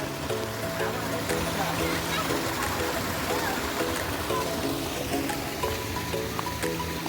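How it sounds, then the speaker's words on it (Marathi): A small waterfall's flowing water hisses as a steady wash, faint and continuous beneath ongoing talk and voices nearby. "याचा छोटा धबधबा बघा दादा"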